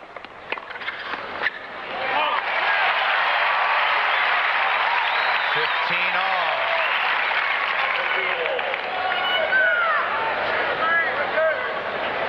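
Loud, sustained applause from a large tennis crowd fills the stadium at the 1992 US Open men's match between Edberg and Krajicek, swelling after a few scattered claps and holding steady under a commentator's voice.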